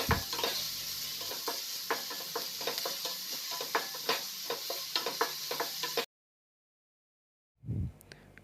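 Chopped onion and green chilies sizzle in a pan while a spoon stirs them, giving rhythmic scraping taps over a steady fry for several seconds, then silence and a single dull thump.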